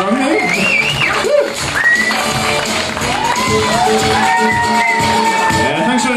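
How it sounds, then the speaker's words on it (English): A loud crowd at a 60th birthday party cheers, whoops and shouts continuously, with a few higher voices rising above the steady roar. "can I have a big round of applause for Tina?"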